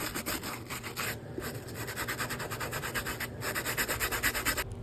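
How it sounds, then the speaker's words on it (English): A wire bristle brush scrubs the outsoles of dirty Air Force One sneakers in quick, rhythmic rasping strokes, close and steady throughout, with no voices. "The only difference is we're going to be using the wire bristle brush."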